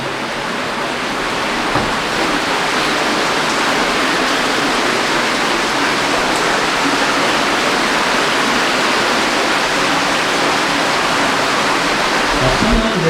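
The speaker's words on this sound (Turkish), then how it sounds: "Nereye gibi su akıyor burada." Rushing water flows continuously nearby inside a cave, a steady broad roar of a stream, with no voices present.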